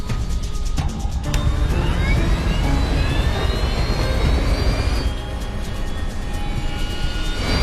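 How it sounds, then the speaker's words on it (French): The left engine of TACA flight 110's airliner restarts in flight, a loud, steady jet roar with whining tones that rise in pitch as it spools up, with no talk over it. "le moteur gauche repart."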